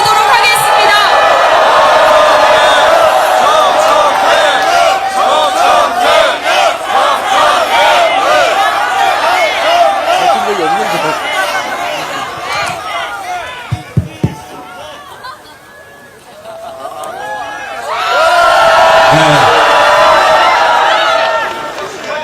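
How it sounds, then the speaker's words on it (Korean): A rally crowd at a candlelight impeachment protest in front of the National Assembly claps and cheers loudly. The roar dips briefly in the middle with a few sharp knocks, then swells back up. "여러분 저희 함께 정청래 의원님을 큰 박수와 함성으로 모셔보도록 하겠습니다."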